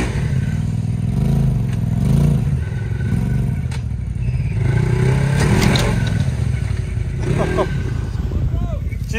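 A Can-Am Outlander ATV engine revs hard while stuck in deep mud among stumps, a loud continuous drone rising and falling with throttle, with clatter and scraping and voices shouting over it.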